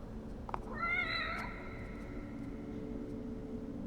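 A single clear cat meow in The Evil Within video game, rising then falling over about half a second, over a low steady background hum.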